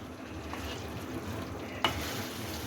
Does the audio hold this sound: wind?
no